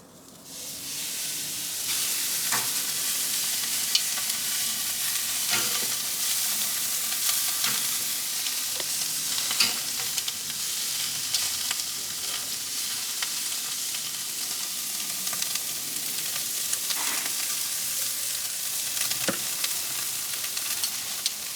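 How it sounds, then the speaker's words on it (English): A butterflied leg of lamb sears fat side down on a Kamado Joe Big Joe grill, a steady loud hiss and sizzle lasting over twenty seconds with scattered pops and crackles, no talking. "So I'm going to start off with the sear, and I'm going to do fat side down."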